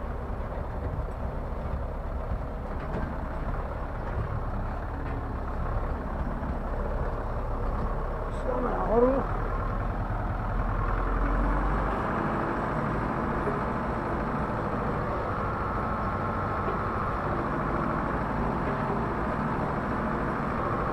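Zetor 6911 tractor engine running steadily while rolling a wheat field, a continuous low drone with a faint creak midway and a slight rise in load partway through.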